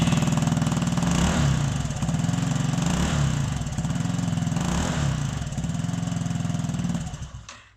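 A Royal Alloy GT125 scooter engine fitted with a Tasso aftermarket exhaust idles and putters with a deep, throaty exhaust note, running steadily with slight pulsing before fading out at the end.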